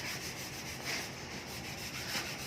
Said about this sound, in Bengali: তো কাজ চলছে এখনও স্যান্ডিং